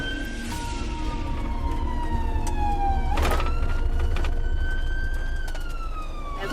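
An ambulance siren wails and sweeps up and down in pitch while the vehicle drives along a street lined with parked cars, loud and close, over engine and road noise.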